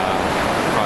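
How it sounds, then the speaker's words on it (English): Mono Creek in the High Sierra, a mountain creek crossing on the John Muir Trail, rushes in a steady, continuous broadband wash of flowing water, close and fairly loud, with some wind buffeting the microphone. "crossing Mono Creek"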